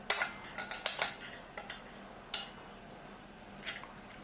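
The metal preheating pan being screwed onto an Optimus 111 stove. A few sharp metallic clicks and scrapes come close together at the start, then a single louder clink and a final soft scrape, with no talking.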